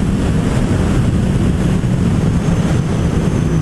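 A motorboat running on open water, a steady loud rumbling drone mixed with wind buffeting and rushing water noise, continuous throughout with no talk.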